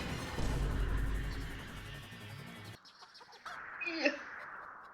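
A chicken in the Roblox video game clucks in a few short, sharp bursts near the end, following a stretch of busy game noise, with a voice speaking nearby.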